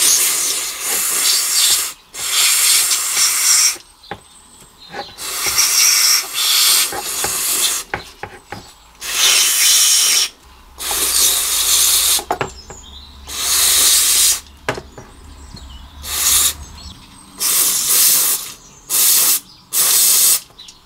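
Bursts of aerosol spray paint hit a rusty mower's carburetor, a series of loud hissing blasts lasting one to two seconds each, separated by brief pauses, with a faint low hum in the middle stretch.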